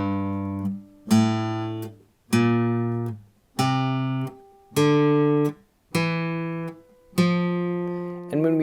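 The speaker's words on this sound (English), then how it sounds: "the F Ionian mode itself sounds like this, with each note played in sequence" Guitar notes of the F Ionian mode played one at a time in ascending sequence, about eight clear plucked tones with even spacing and ringing decays, no talking.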